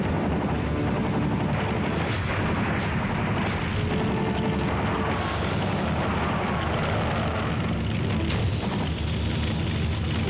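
Missile launches and blasts in the vehicular combat game Twisted Metal 2, a dense, constant barrage of booming explosions and rumbling fire with a few sharp bursts standing out, loud and close with no talking.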